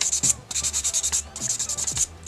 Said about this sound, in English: I'm using the soft grit side of this file, because it doesn't need too much work